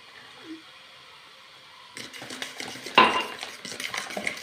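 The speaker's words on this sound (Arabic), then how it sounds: "نخلطها مليح مليح حتى يذوب السكر" Eggs and sugar mixed in a bowl: after a quiet start, a whisk or spoon clinks and scrapes briskly against the bowl in quick close strokes, with one louder knock.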